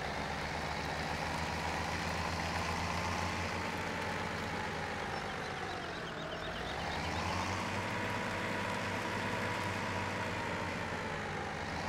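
An Oliver tractor engine in Farming Simulator 17 runs as a steady, close, droning hum. The pitch dips and rises once partway through, and nobody talks over it.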